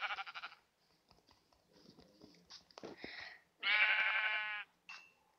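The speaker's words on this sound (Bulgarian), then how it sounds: "Да, и овца убихме." A Minecraft sheep lets out a nasal, wavering bleat, loud and alone, after quieter scattered game noises and snuffles.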